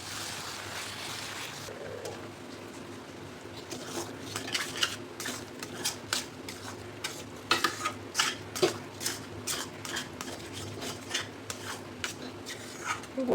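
Dal and jaggery puran is stirred in a pan over medium flame, a quiet steady background with a rhythmic series of spoon scrapes and clinks growing busier and louder as stirring picks up.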